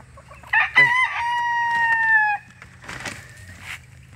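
Chickens inside a backyard coop: a rooster gives one long, loud, close crow, followed by softer clucking and squawks from the hens.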